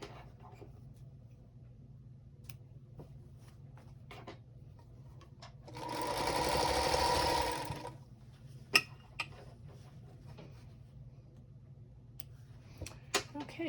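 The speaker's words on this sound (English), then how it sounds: "we're going to stitch right down to the end here." A sewing machine stitching a quilt block, its motor giving one steady, close whir for about two seconds amid quiet handling clicks and taps of fabric and thread.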